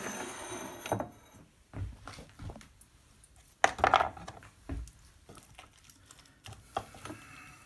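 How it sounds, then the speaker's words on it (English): A fork scrapes and taps chopped eggplant from a board into a serving bowl, giving scattered soft clinks and knocks at an uneven rhythm, close and fairly quiet. "we're going to fork it out into a serving bowl"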